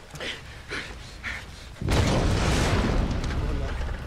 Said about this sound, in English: Did the extra explosion have to be necessary?